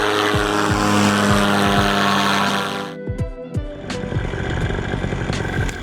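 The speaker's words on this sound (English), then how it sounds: "Then Gary goes up for a flight later on in the evening" A model airplane with a propeller flies over an evening gathering, its steady droning engine loud and near at first, then cutting out abruptly partway through, leaving fainter rattling and background sounds.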